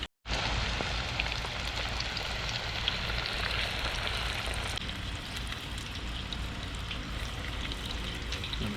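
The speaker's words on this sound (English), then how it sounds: "now we just wait for these delicious crappie nuggets to cook up" Crappie fish nuggets fry in hot oil on a StanSport Base Camp two-burner portable propane camp stove outdoors, a steady loud crackling sizzle that runs nonstop and close after a brief silent start.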